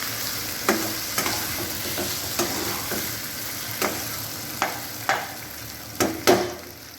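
Grated potato and paneer frying and being stirred in a pan, with a steady sizzle under repeated sharp scraping strokes of a spoon against the pan.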